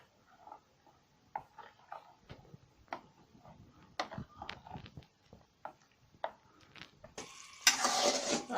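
A semolina and yogurt mixture is stirred in a pan for makhandi halwa, making irregular scraping and clicking strokes. A short burst of sizzling near the end rises louder than the stirring.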